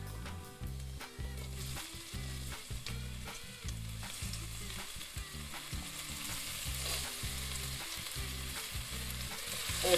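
Peppers fry in hot oil in a pan for chickpeas with chorizo, a loud continuous sizzle and crackle broken by rhythmic stirring scrapes, with no talking.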